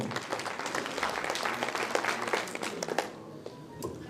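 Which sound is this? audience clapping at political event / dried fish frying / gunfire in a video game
audience clapping at political event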